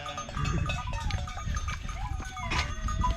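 Lambs on a farm bleat in short wavering calls among shuffling and handling noises, close to the microphone, with a few overlapping cries from nearby animals.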